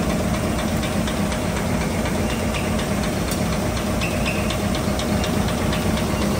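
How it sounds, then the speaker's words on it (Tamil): A vibrating sieve machine cleaning millet while pushing out dust, producing a dense, steady mechanical roar and rattling hiss that fills the space continuously, loud and close with no voices. "இங்கே வந்து வைப்ரேட்டர் பாருங்கள், டஸ்டெல்லாம் வெளியே தள்ளுது."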